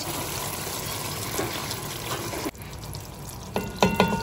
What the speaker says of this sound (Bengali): এবার এর মধ্যে আমি এখন 1 চামচ মতন আদা রসুনের পেস্ট মোটামুটি একটু দিয়ে দেবো